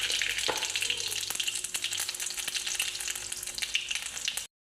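Cumin seeds dropped into hot oil sizzle loudly and steadily, a close crackling hiss with small pops, no talking, ending abruptly.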